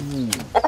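Chickens in a mountain-village coop on an early snowy morning, a few soft low clucks and murmurs followed by two brief sharper calls, close and fairly quiet.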